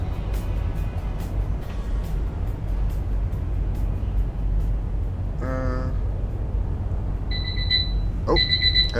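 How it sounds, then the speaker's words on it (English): A low engine drone from a 1970s nuclear submarine in the naval game Sea Power rumbles throughout, then an alarm clock starts beeping in short, repeated electronic tones near the end. "It's 5 p.m. and I forgot to shut my alarm off."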